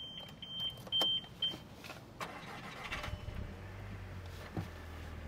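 A PRV V6 car engine cranks and starts, settling into a steady low idle after a few mechanical whirs and clicks.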